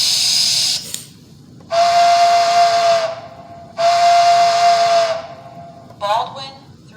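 Sound-decoder steam whistle from a Bachmann K4s streamlined HO-scale model locomotive: two long, clear chime blasts with airy hiss between them, then a short final toot, close and loud.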